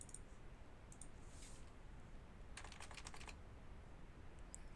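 Quick bursts of typing on a computer keyboard while testing a search box, soft clattering keystrokes in short clusters over a quiet background.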